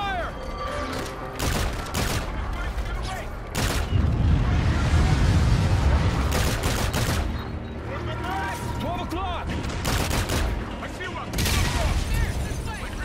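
A ragged volley of gunshots and heavy booms rings out in a street battle, bursts of fire rising and falling across the scene while voices shout over the din.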